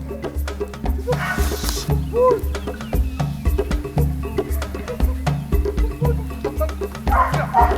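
A wildlife detection dog at a training session barks repeatedly in a quick irregular rhythm, close and loud, with yips mixed in and faint background voices and noise.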